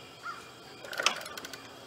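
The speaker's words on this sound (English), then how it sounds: "now a crow's yelling." A crow cawing in the woods near a farm with goats, a couple of harsh caws in quick succession at mid distance against quiet background.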